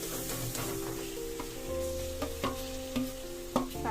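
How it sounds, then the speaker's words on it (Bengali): Ground greens (data shak) paste with turmeric sizzling in hot oil in a kadai while being stirred, a steady close fry with repeated scraping strokes of the spoon throughout. "শাকটা দিয়ে এবার ভালো করে নাড়াচাড়া করবো তেলের ওপর।"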